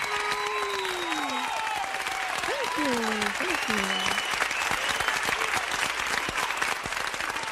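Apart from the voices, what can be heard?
applause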